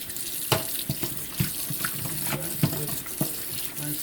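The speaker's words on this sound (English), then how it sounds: "Water run over the leaves." Tap water runs steadily over callaloo leaves being rinsed in a sink, with irregular splashes and knocks as the leaves are handled.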